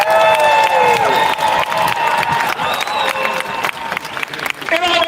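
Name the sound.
crowd applauding and cheering at a protest rally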